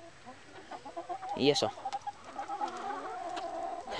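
Chickens in a farmyard coop cluck and squabble as a newly added hen is pecked by the flock, with a short burst of louder agitated squawking amid ongoing clucks and a brief spoken remark.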